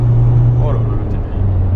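The diesel engine of a Volkswagen Golf 4 TDI hums steadily from inside the car, a low, even drone that runs under people talking.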